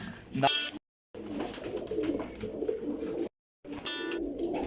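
Lakha and slate pigeons coo in low, soft bursts, close by and moderately loud, broken by two brief gaps of silence, with a faint murmur of other birds in the background.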